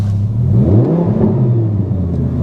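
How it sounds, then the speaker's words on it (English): An Audi R8 V8 with a Capristo exhaust revs close by, a loud, deep rumbling engine note that rises and falls through a couple of blips, with no talking. "Oh, that Capristo exhaust. I recognise that sound."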